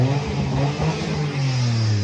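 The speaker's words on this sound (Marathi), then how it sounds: "झाली चालू केली गाडी. फक्त फायरिंग आहे का फायरिंग गाडी बरं का." A Maruti Alto car engine, just jump-started from another battery, runs and revs steadily at close range, a continuous mid-pitched drone with slight rises and no speech over it.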